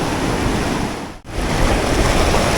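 A mountain river near El Cocuy in Boyacá, Colombia, rushing with a loud, steady, close roar that dips briefly midway, with no talking.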